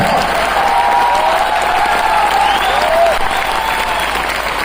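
Loud, dense audience applause fills an indoor hall at a Nagpur MI Lifestyle business program, a steady wash of many hands with a few whistles and cheers rising through it from start to finish.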